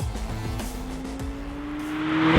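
McLaren 675LT supercar cruising on a smooth dual carriageway, its engine holding a steady droning note that rises gradually as it builds speed, with road and wind roar growing louder toward the end.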